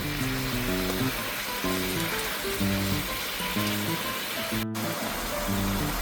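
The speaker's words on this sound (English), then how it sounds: "Put it back on medium-high heat. That way it helps to caramelize the sauce all together with the pork." Honey garlic pork simmering in sauce over medium-high heat, giving a steady, loud, even sizzle and bubble throughout, with a faint repeating musical tune underneath.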